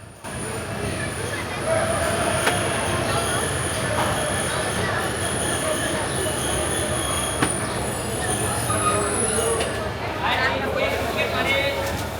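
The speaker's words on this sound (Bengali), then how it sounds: "অবশেষে আমাদের ট্রেন এসে প্রবেশ করল চট্টগ্রাম শহরে" The Parjotak Express pulls into Chittagong railway station with a loud, continuous rumble of rolling wagons and a sustained high wheel squeal that fades out near the end.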